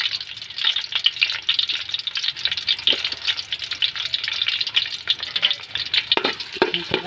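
Chopped onions fry and are stirred in a pan for batchoy, giving a steady close crackling sizzle with scraping stir strokes throughout and no talking.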